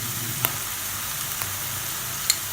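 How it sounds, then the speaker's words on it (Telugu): Oil sizzles steadily in a pan while frying for an Andhra-style fish curry, a quiet even crackle with a few faint clicks of stirring. "మీడియం బ్రౌన్ కలర్ వచ్చేంత వరకు ఫ్రై చేయాలి"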